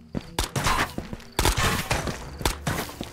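Gunfire in the video game Ghost of Tabor comes as sharp, loud shots in quick irregular bursts, several cracks close together with gaps between them, alone and with no talking.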